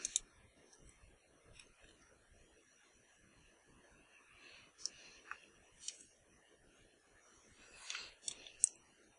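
Quiet, sparse computer mouse clicks during work in a digital painting program, a few isolated sharp taps spread across a near-silent background with faint room noise.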